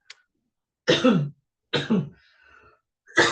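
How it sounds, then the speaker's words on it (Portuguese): Three harsh, close coughs in quick succession from a woman with a hoarse, lost voice, with a brief wheezy breath between the second and third. "Desculpa que eu tô tossindo"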